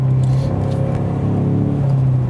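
Ford Mustang engine rumbles steadily from inside the car, a low droning hum that shifts pitch as the pedal is pressed, rising slightly in a brief acceleration before settling back, loud and continuous throughout.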